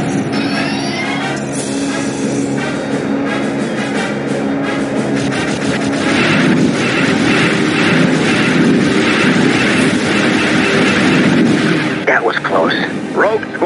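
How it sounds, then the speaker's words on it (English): A train in the N64 game Star Wars Rogue Squadron 3D, on the Kessel rescue mission, slows down: a loud, continuous mechanical rumble and clatter, mixed with blasts and weapon fire throughout. "The train is slowing down."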